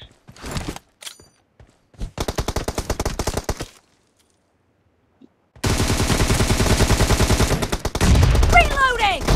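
Automatic gunfire rattles in a PUBG team deathmatch, coming as rapid bursts of sharp shots separated by brief silences. The final stretch is a longer, denser barrage.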